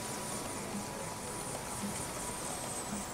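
A Bell 407 helicopter in Microsoft Flight Simulator 2020 lifts off with a steady, dense whine and rotor roar, continuous and moderately loud, with no talk over it.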